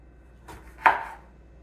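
A knife slicing through a fresh lime on a cutting board while making Brazilian lemonade, a single soft crisp cut landing on the board, close and quiet against a silent kitchen background.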